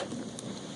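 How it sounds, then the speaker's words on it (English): A serious hail storm in Wallingford, Connecticut, a dense, continuous roar of hailstones pelting surfaces, loud and steady through the short stretch. "Some serious hail."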